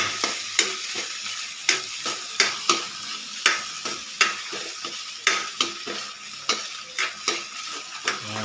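Sliced hotdog fries in a pan for fried rice, a continuous oily sizzle broken by regular scraping clicks of a utensil stirring, about two strokes per second, close and alone.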